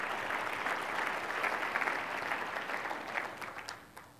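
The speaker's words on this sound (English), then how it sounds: "A big round of applause to that." Audience at a retail industry conference breaks into applause, a dense, sustained clatter of many hands in a large room that swells and then gradually thins out.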